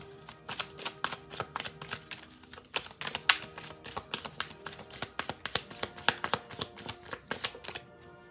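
Oracle cards from Doreen Virtue's Love, Romance, Angels deck being shuffled and drawn, a close run of quick crisp flicks and slaps repeating in an uneven rhythm, with no voices.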